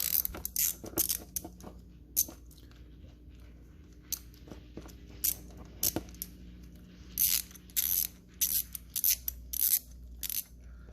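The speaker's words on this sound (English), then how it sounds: "It'll just be easier to put the wrench on." Ratcheting wrench working the ignition coil bolts on a BMW E46, with quick bursts of clicking pawl and metallic ticks. The clicks come in short repeated runs and are close and fairly crisp, with no talking.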